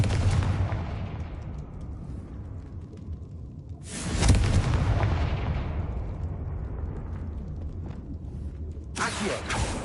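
Confringo fire spell explosions from Hogwarts Legacy burst in repeated loud blasts, each trailing a long rumbling decay, with another blast hitting at the very end.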